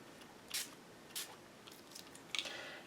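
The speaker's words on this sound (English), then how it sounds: "I'm going to come in with some polished jade ink spray." Polished jade ink spray is misted onto paper for a craft piece in several short, sharp spritzes, quiet and close, with brief pauses between pumps and no talking.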